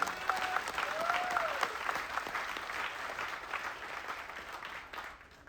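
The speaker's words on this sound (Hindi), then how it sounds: "एक जोरदार तालियां खुद के लिए।" Sustained applause from an audience aboard a Cordelia cruise ship, a dense steady wash of many hands clapping throughout, with a brief whistle-like tone early on and faint voices mixed in.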